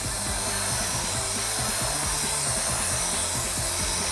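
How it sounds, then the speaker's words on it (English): Rotary drill brush scrubbing cleaning product into the fabric seats of a filthy truck, a steady close whirring hum with rhythmic scraping bristle pulses and no talking. "I'll come back with a drill brush like this. And you're just working this product in."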